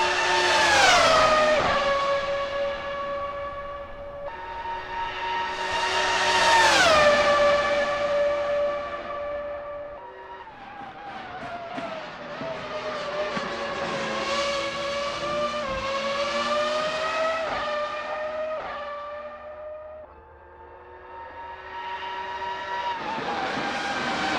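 A race car laps Imola in a racing video game, its engine whining loudly and alone, pitch climbing through each gear and dropping on upshifts and braking, with a soft tire squeal now and then.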